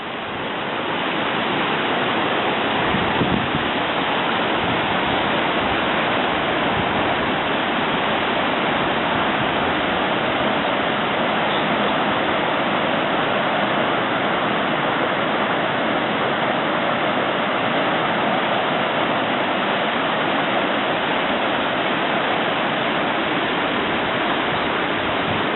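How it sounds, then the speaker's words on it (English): A river rushing through a rocky Sierra Nevada mountain landscape, a constant broad roar of flowing water heard close up, steady and unbroken for the whole stretch with no voices. "Got to get a little closer to the river here so you can hear the river."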